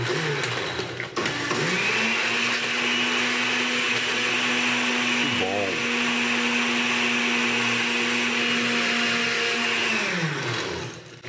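A blender whirs loudly and steadily for about nine seconds mixing a batida drink, its motor pitch shifting briefly midway before winding down to a stop.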